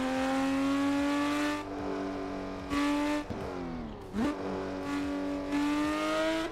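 A Porsche 911 GT3 engine revs repeatedly, climbing to high pitch, dropping sharply between gear changes, and climbing again, loud and close with a strong harmonic whine.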